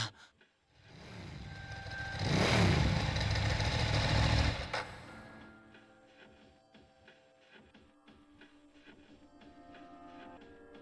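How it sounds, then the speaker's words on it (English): A motorcycle engine in the video game Persona 3 Portable revs up into a loud, rough roar for a couple of seconds, then drops to a lower rumbling idle with mechanical whirring. "A motorcycle?"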